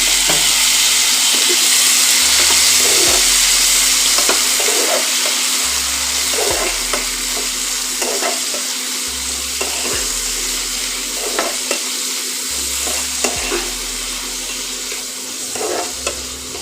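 Steady sizzling of tomatoes frying in a pan for a sweet chutney, with regular scraping and clanking strokes of a spoon stirring every second or so; no talking.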